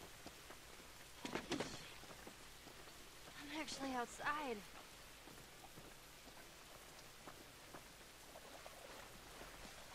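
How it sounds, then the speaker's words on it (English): Steady rainfall patters through a scene in the video game The Last of Us, a constant soft hiss in the background while someone talks over it. "This rain ain't gonna do us any good."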